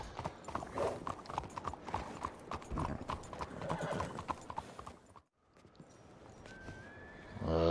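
Horses' hooves clip-clopping in the video game Red Dead Redemption 2, a close, rhythmic run of hoof strikes that stops suddenly, followed by quieter ambience and a horse's whinny at the end.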